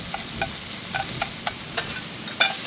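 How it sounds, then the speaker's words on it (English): Garlic sautés in a pan at a campsite on a windy night, giving a soft steady sizzle under a string of light clicks and scrapes as it is stirred, close by with no talk. "we're gonna add the garlic now. Give that a little bit of a saute."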